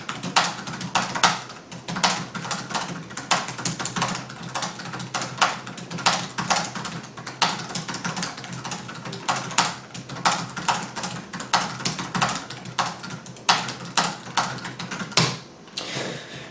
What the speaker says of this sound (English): The spacebar is very loud and clacky.